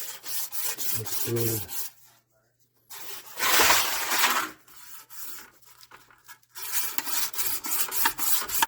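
Scotch-Brite pad and wire brush scrubbing the body of a 1964 Mercury Comet that sat for 23 years: bursts of close, raspy rubbing alternating with short pauses, with someone talking over parts of it.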